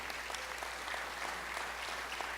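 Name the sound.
applause for the Lord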